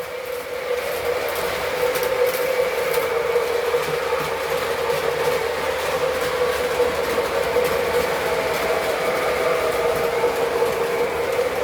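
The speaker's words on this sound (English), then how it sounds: "I wanted to keep the passenger train on the track for a while and run it for a while." A model train runs continuously along its track, a steady whirring motor hum with faint rhythmic rail clatter, close and fairly loud.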